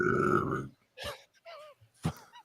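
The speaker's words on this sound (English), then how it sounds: "I didn't mean to burp over the patrons." A man lets out a loud, low, drawn-out burp up close, followed by a few short vocal fragments with pauses between them.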